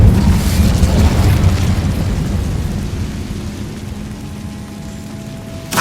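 Casting the Incendio fire spell in Hogwarts Legacy sets off a loud whooshing burst of flame that rumbles and crackles, then slowly fades, with a final small pop at the end.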